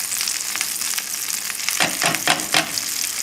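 Veal cutlets fry in a pan for a veal parmigiana, giving a steady bright sizzle with a few louder crackling bursts near the end, close and alone with no talking.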